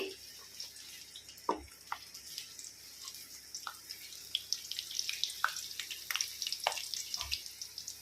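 Green chillies and onions frying in about four tablespoons of oil give a faint, steady sizzle with scattered soft crackles and pops, close by and with no talking.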